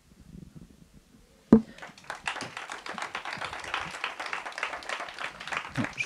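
Audience applause at a biodiversity conference on ecocide: after a quiet stretch with murmuring voices and a sharp thump, scattered claps build into steady, moderately loud clapping from a crowd.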